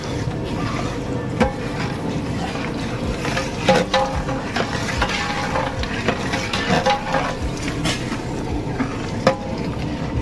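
Ingredients for a curry are stirred and mixed in a cooking pot, giving a continuous scraping and sloshing texture with scattered sharp clinks of the spoon against the pot.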